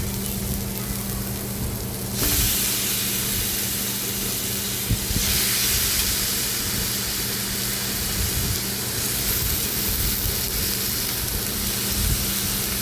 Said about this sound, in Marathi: आता हे वांगी आणि बटाटे मी अशी उभी कट करून घेतलेली आहे बघू शकता आणि पाण्यामध्येच ठेवलेली होती आता हे आपण कढईमध्ये घालूया